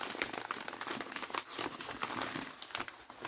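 Paper envelope being opened, soft crinkling and rustling with short tearing bursts, close and quiet, irregular handling sounds throughout.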